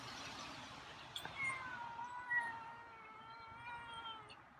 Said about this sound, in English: Wow, that's a meow for you.